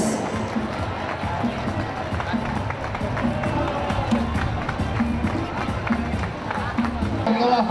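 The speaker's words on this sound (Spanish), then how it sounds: "el aplauso lo ponen todos ustedes" Outdoor crowd applauding at the prize ceremony of a year-end footrace: scattered clapping and crowd noise continue steadily beneath an announcer's voice.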